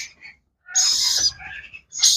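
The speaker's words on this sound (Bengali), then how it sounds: "অনেক সুন্দর সুপার কোয়ালিটির অ্যামাজন প্যারোটের বাচ্চা" Young Amazon parrot chicks at a bird market give loud, harsh squawking calls in two bursts, with softer chirps between them, close to the listener.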